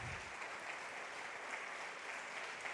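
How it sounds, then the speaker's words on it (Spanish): A church congregation applauds in a steady, dense wash of clapping that holds at an even level throughout, with no single claps standing out and no break in the sound. "Dale un aplauso al Rey."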